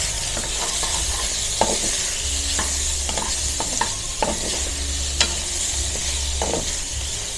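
Baguio beans and sotanghon noodles stirred in a pan, with a steady sizzle from the hot oil and repeated scraping and clacking of the utensil against the pan at an irregular rhythm, close and fairly loud.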